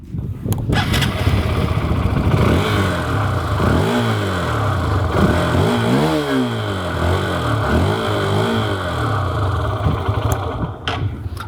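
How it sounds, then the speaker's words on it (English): A Hero Xtreme 160R 4V motorcycle with its 160cc engine fires up and settles into a steady idle, then the exhaust is blipped through several rising and falling revs, loud and close throughout. "Speaking of the exhaust, let's find out how it actually sounds"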